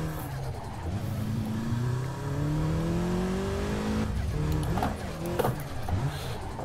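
Toyota hillclimb race car in Assetto Corsa climbing an uphill course, the engine droning steadily as its pitch climbs through gear changes, with short tire squeal and skidding toward the end; loud and close, no talk.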